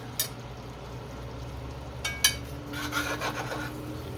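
Food being stirred in a pan while cooking chicken marsala, with a few soft scraping rubs and brief clinks against steady low kitchen background noise, fairly quiet throughout.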